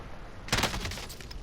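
Gunfire from the Call of Duty: Modern Warfare video game erupts midway as a short burst of rapid shots, sharp and fairly loud after a quiet start.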